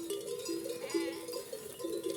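Sheep bleat repeatedly in overlapping, wavering calls, fairly close and steady throughout, with no talking.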